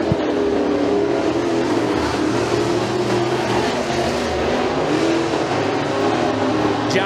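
Race cars roaring around the track at McKean County Raceway during heat races, a continuous loud engine drone with shifting pitch as several cars pass close by.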